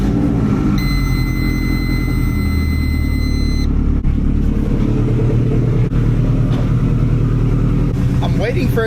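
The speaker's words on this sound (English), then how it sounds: "I'm gonna turn the car on and try to see where it's leaking from." A Subaru WRX STI engine idles steadily with a loud, continuous low rumble and a few high whining tones near the start, heard up close with no talking.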